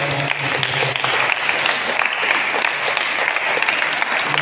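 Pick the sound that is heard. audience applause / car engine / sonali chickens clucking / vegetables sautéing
audience applause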